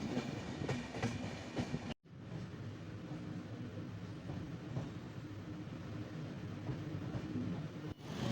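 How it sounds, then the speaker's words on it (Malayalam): A train between Mangalore and Bangalore rumbles steadily along the tracks with a continuous low roar and faint rhythmic clatter, briefly dropping out near the start and end. "ഇപ്പോൾ മംഗലാപുരത്ത് നിന്നും ബാംഗ്ലൂരിലേക്ക് ട്രെയിനിൽ"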